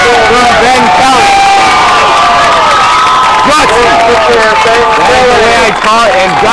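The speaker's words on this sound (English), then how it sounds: "as the crowd goes wild" A loud crowd cheers and roars at a Geneseo versus Voorheesville state semifinal game, a dense, sustained wall of shouting and applause filling the whole stretch, with excited voices rising out of it.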